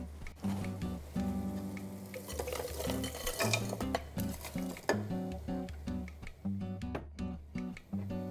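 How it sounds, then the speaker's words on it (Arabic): A spoon stirs okra and tomato paste in a pot close by, with soft scraping and squelching over a gentle sizzle. "ومنحرك لحوالي دقيقتين."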